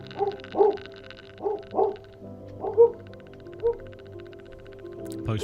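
A dog barks and yips repeatedly at a moderate distance, several short uneven barks spread across the clip with a low hum underneath.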